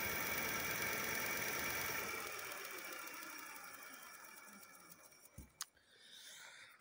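A Minako V12 Lux 60V electric bike motor spins with no load, giving a steady mechanical whine with a faint whistle and rubbing that slowly fades, followed by a few clicks and knocks near the end.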